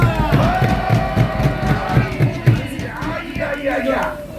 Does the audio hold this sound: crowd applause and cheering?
yes